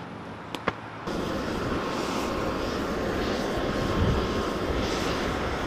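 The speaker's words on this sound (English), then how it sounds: "we're on the plane," A steady, loud airplane engine drone fills the cabin after a couple of brief clicks, holding a constant broadband roar throughout.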